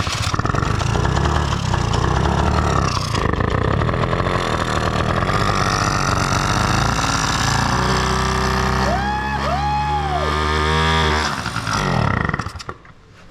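A moped engine runs steadily with a loud, rough droning hum that holds throughout, rising in pitch briefly near the end before cutting off abruptly.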